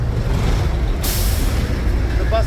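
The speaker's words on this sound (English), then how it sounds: "The bus is always loud." A loud bus goes by on a town street near a sandwich and taco stand, a steady heavy engine rumble with a sharp hiss of air brakes partway through and a brief squeal near the end.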